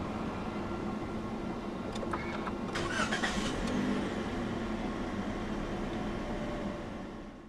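A 2016 Toyota Vios 1.5 G comes to life with a push-button start: a short cranking burst catches and settles into a steady, close engine hum that fades slightly at the end.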